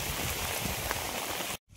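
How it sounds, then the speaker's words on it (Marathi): Heavy monsoon rain pours steadily in a dense, unbroken hiss on a cashew plantation, cutting off abruptly near the end before faintly resuming. "खूप जोरात पाऊस येतो आणि पाऊस चालू आहे आता."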